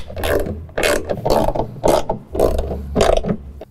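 Ratchet wrench tightening bolts on a John Deere Gator TX adjustable seat slide, BM23799: six or seven bursts of fast clicking, loud and close, each half-second run separated by short pauses, with no talk.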